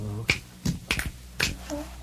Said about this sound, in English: Good clapping, good snapping there.